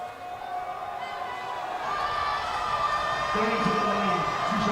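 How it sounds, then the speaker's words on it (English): Crowd noise at a high school basketball rivalry game during a free throw, a loud, dense roar of voices and shouts from the stands that swells as it goes, with other voices over it. "Again, the crowd making as much noise as they can in a rivalry game"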